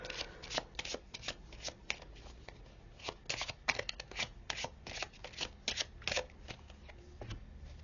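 Tarot cards are shuffled and drawn for a reading, giving a steady run of crisp riffling and flicking sounds that come close and alone across the whole stretch.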